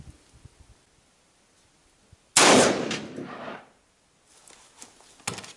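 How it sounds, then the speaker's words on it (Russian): An MR-155 shotgun fires once outdoors at a target 80 metres away, a single loud, sharp blast midway that rings out and fades over about a second, with light handling noises before and after. "И для окончательной статистики мы делаем третий выстрел."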